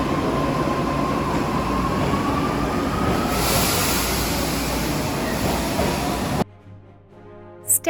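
Loud, continuous roar of an Osaka subway train in motion with rumbling wheels and a faint rising whine, ending abruptly.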